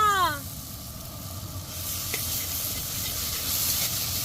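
Salt with garlic and ginger paste sizzles in goat fat in a pan for a Bengali chicken dish, a steady close hiss with brief louder crackles after a short spoken phrase at the start.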